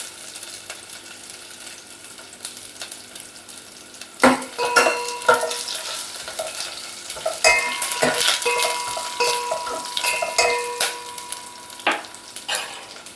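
Curry leaves and fenugreek seeds hitting hot oil for tomato rasam, a loud sudden sizzle and crackle that keeps going with spoon scrapes and clinks against the pan, close up, with no talking.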